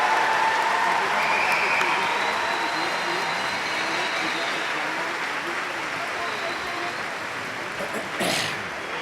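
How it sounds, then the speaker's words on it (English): Large graduation ceremony audience applauding the master's graduates of a business school, a broad, continuous roar of clapping that holds steady and slowly eases, with a brief louder burst near the end. "Ladies and gentlemen, a round of applause for the master's graduates from the A.R. Sanchez Jr. School of Business."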